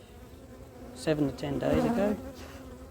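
Honey bees crawling on a hive frame during a brood inspection, giving a continuous close buzzing hum while someone speaks briefly over it.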